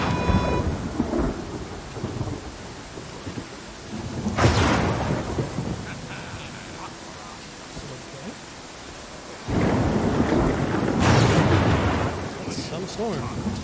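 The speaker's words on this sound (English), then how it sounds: "Storm." A thunderstorm in the fantasy video game Pathfinder: Kingmaker: steady heavy rain hisses throughout, broken by two loud rolling thunderclaps that swell and linger, with no one talking over it.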